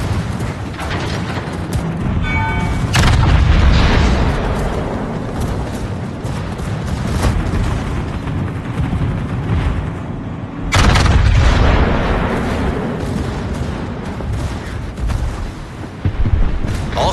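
Heavy naval guns from the German battleship Kurfürst firing in World of Warships: two big booming salvos, each with a deep rolling rumble, over constant loud battle noise, with a brief mechanical ticking early on and no talking.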